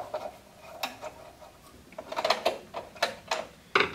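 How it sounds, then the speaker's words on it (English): Phillips screwdriver loosening terminal screws on a water heater heating element, heard as scattered light metallic clicks and scrapes, some sharper ticks near the end, close and fairly quiet with no voices. "Take your Phillips screwdriver, loosen the screws, and the wires will pop off the terminals."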